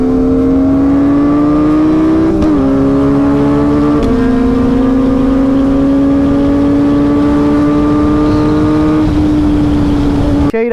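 Superbike engine fitted with a slip-on exhaust, loud and near, holding a steady, buzzy, high-pitched drone that rises gradually with a few brief dips at gear shifts, with no talk throughout.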